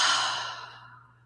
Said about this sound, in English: Let's all breathe together for a second.